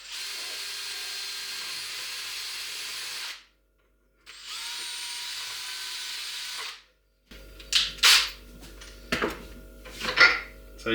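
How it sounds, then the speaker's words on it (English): A power drill bores hinge holes into wood to roughly 15mm depth, running in two steady, loud whining bursts separated by a short pause, followed by clattering handling sounds. "Make sure you figure out which holes you need to use for your particular hinge before you drill the holes."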